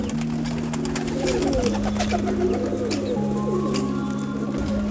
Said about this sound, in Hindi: आ गए अपने कबूतर।